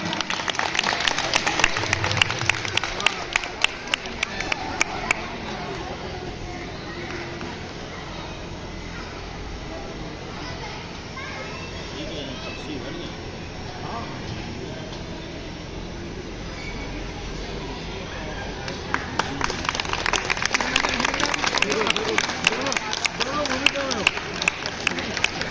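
An audience at a poetry recitation event applauds, a dense, continuous wash of clapping that swells louder toward the end, with a voice speaking over it.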